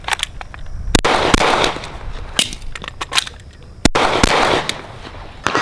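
Several loud, sharp gunshots ring out at an outdoor shooting range from a gun fitted with a Radian Ramjet, irregularly spaced with a couple of quick doubles, each leaving a short echoing tail over background noise.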